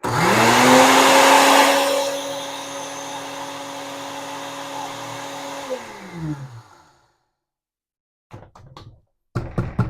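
A blender grinds dried eggshells into powder with a loud steady motor whine that spins down and stops after about six seconds, followed by silence and a few close taps and knocks.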